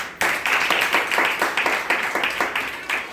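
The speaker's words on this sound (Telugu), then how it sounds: "సంతోషంగా ఉన్న వాళ్ళని చప్పట్లు కొట్టండి." A church congregation claps together in a quick, even rhythm, the dense applause sounding close and steady for several seconds.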